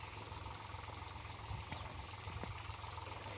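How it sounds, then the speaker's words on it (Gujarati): A tractor works at the edge of a groundnut field, pulling a panchiyu implement behind it to cut furrows. A low, fairly faint engine rumble runs steadily with a light knocking throb and no talking. "આપણે પંચિયું લઈને આવી ગયા છે ટ્રેક્ટરમાં જોડાવીને, જો મારા પપ્પા વાહે છે અને ટ્રેક્ટરની આગળ હાલે છે"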